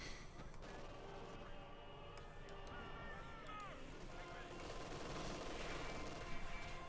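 Panzer IV tanks fire repeatedly in Company of Heroes 2, with battlefield gunfire and blasts crackling throughout and growing slightly heavier toward the end, while a commentator talks over the action.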